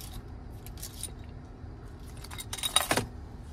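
A 2023 Cadillac Escalade Premium Luxury key fob with remote start jangles on its ring as it is handled, with light scattered clinks building to a brighter, louder burst of metallic rattling near the end.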